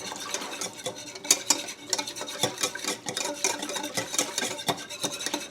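Homemade deodorant ingredients are stirred in a bowl, with steady, close scraping and clinking strokes repeating in an irregular rhythm throughout, moderately loud and without any voices.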